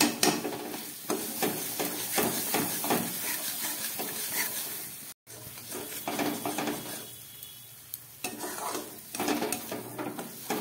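Spice masala sautéed on low heat in a pan for a Bengali fish curry with eggplant and tomato, giving a continuous soft sizzle under frequent scraping stirs and occasional clanks of utensil on pan, no talking.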